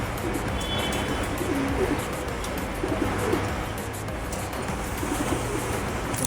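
Pet pigeons coo in a few low, repeated bursts, partly buried under a constant broadband hiss of outdoor background noise.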